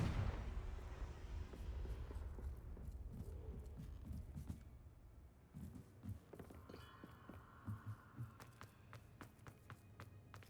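Confringo explosive spell cast in the video game Hogwarts Legacy, a fairly faint booming blast at the start that fades into scattered thuds, crackles and footstep-like patter.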